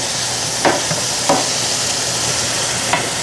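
Smashed cherry tomatoes and garlic sizzle steadily in a hot pan, a constant close frying hiss broken by a few soft squishing presses, with no voices.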